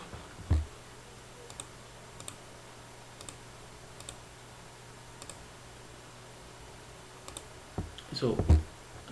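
Keys click one at a time on a computer keyboard as a short Linux command is typed, the taps sparse, soft and close, ending in a cluster of louder strokes.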